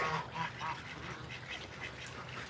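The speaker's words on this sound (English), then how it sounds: "He's chasing away the wild ducks." Wild ducks at a farm pond give repeated nasal quacks and honking calls, moderately close and fairly steady over faint outdoor background noise.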